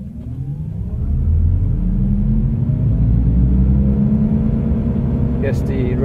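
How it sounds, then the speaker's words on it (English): Mazda MX-30 R-EV rotary range-extender engine starting up under way, a steady low droning rumble rising in from road noise and holding evenly inside the car, with a brief higher whine near the end. "Yes, the rotary kicked in."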